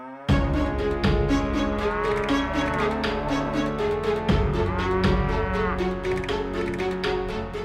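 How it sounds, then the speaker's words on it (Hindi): A cow lows loudly and close by in an odd, drawn-out, tuneful way, its long moos rising and falling over several seconds with no talking. "ये गाय विचित्र धुन में रंभा क्यों रही है?"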